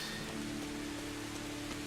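Constant rainfall washes over the medieval village of Kingdom Come: Deliverance, a thick uniform patter with a faint low hum underneath and no one talking.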